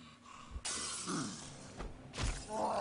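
Glass shattering as a zombie smashes through a window in the video game Dead Island, a loud crash followed by further breaking impacts and debris, with no talking.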